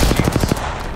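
Rapid automatic gunfire in an online battle royale shooter, a burst of about six loud, closely spaced shots that stops abruptly and leaves a dense, noisy background.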